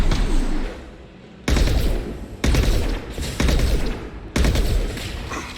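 Rifle fire in Mass Effect 2, loud, close bursts of automatic shots in four separate volleys with short pauses between them.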